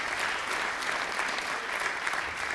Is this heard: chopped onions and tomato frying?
no